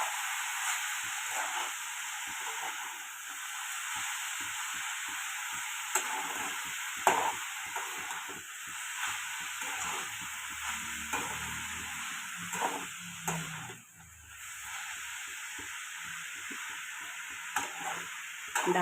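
A milk and sugar mixture being stirred in a pan while it cooks down to syrup, a soft steady sizzle and bubbling with repeated light scraping strokes, close and fairly quiet.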